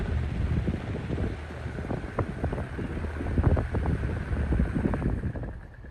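Rusted 88-year-old Robbins and Meyers Type 1204 industrial fan running after repair, a steady whooshing air roar with uneven low rumbling knocks, close by and without talk.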